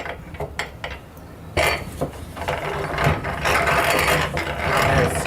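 A hand-cranked grinder turns without letting anything out, its rattling, ratcheting mechanism loud and close, with irregular clattering gear noise that grows busier and steadier toward the end.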